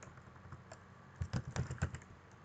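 Computer keyboard keys clatter in a short close burst as Python Tkinter code is typed, after a quiet pause.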